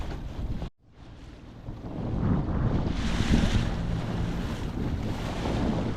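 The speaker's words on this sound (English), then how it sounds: "I don't know if you can see how rough this water is." Rough river water churns with a strong current while wind buffets the microphone from a fishing boat, a loud continuous roar that swells after a brief dropout, no talk.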